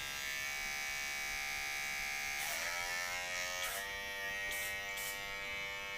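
Electric hair clippers, freshly oiled, buzz steadily at close range with a dense harmonic hum throughout, the tone shifting slightly as the blades loosen.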